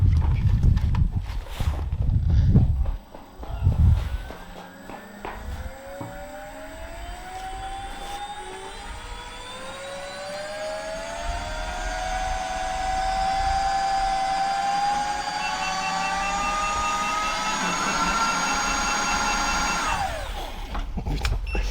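Electric unicycle motor of a Gotway Monster spinning unloaded up to maximum speed, a rising whine that climbs steadily in pitch for about fifteen seconds, holds near the top and then cuts off, after a few thumps at the start.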